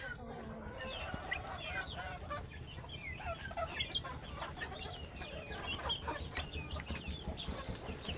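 Chickens of about 30 to 60 days old, let loose at feeding time, cluck and chirp busily and continuously at close range, with several birds calling over one another and no talk.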